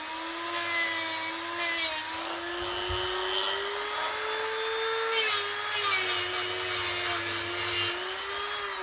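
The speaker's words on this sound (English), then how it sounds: "I have started using the Dremel tool, or Ferrum tool" A Dremel-type rotary tool whines steadily with a slowly rising pitch as it grinds and sands a Brooks B66 leather bicycle saddle, with bursts of scraping grit where the bit bites harder into the material.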